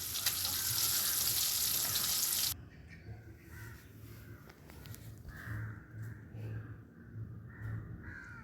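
Chilli-coated pieces of dried fish (karuvadu) frying in oil give a loud, dense, hissing sizzle for a couple of seconds, which cuts off abruptly; crows then caw repeatedly in the background.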